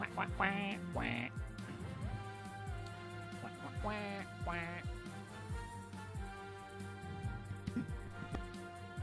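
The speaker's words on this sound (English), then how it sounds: "Quack, quack, quack, quack." Repeated duck quacks in bursts, fairly close and loud, over a steady background of game music and ambient tones.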